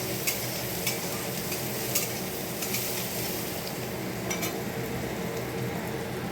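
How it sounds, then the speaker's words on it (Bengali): Chopped onions sizzle steadily in a hot pan for an egg curry, with a utensil stirring and scraping in a few sharp clicks over the constant frying hiss, close and alone without talk. "পেঁয়াজটা ভাজা হলে তারপরে এই মশলাটা দিয়ে দেবো"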